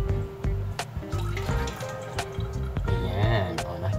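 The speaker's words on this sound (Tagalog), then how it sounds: "lalagyan nyo siya ng konting water para maghalo siya dito sa dishwashing liquid natin" Water trickles and gurgles as it is poured into a Dish Daddy dishwand holding dishwashing liquid, with close bubbling, dripping and small plastic knocks, and someone speaks in between.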